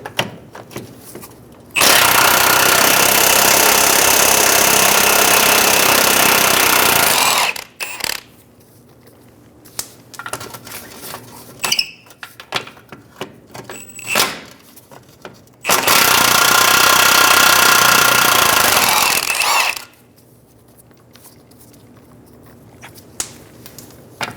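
Nuts under the motor mount of a 2007-2011 Toyota Camry being removed with a 17mm socket on a power tool, two loud sustained buzzing runs of several seconds each, separated by quieter clinks and handling noises.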